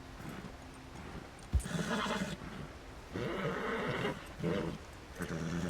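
Horse neighing and whinnying in the Red Dead Redemption 2 video game, several loud bursts mixed with game ambience in the countryside.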